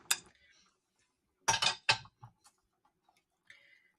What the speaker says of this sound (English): And then we're going to stir it all in.